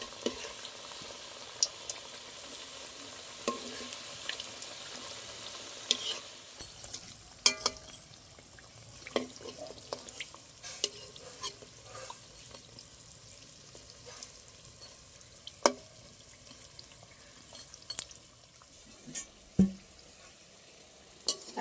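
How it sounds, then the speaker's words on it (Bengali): Kadam nimki pastries frying in shallow hot oil, a steady soft sizzle and bubbling with occasional louder pops and stirring clinks, close and continuous without any voices. "এরকম অল্প অল্প গরম তেলে ভেজে নিতে হবে, এরকম উল্টিয়ে দেবো।"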